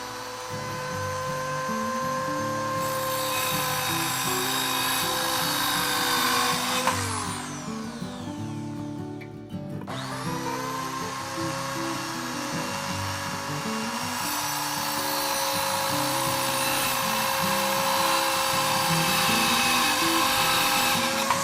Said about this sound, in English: I'll do this with a small circular saw, but you can use a regular full-size saw if you like